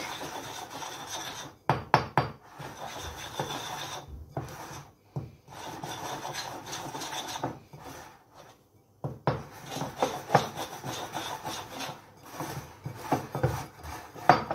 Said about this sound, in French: vous allez mélanger de l'intérieur à l'extérieur pour que ce soit plus facile à faire votre mélange